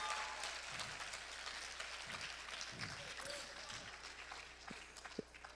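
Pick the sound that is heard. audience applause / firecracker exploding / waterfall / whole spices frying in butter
audience applause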